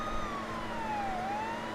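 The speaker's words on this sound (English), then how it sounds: "Oh, we had lights and sirens on." A police siren wails steadily in a sweeping tone, loud and continuous, from a patrol car running with lights and sirens during an emergency on the highway.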